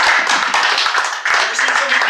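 Comedy club crowd clapping after a stand-up set, a close, busy patter of many hands for about two seconds, with voices mixed in.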